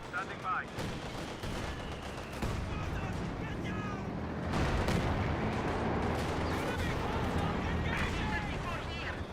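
Landmatratze rocket artillery barrage in Company of Heroes 2: a rolling series of sharp launches and booming impacts layered over continuous battle noise, growing heavier midway and staying dense to the end.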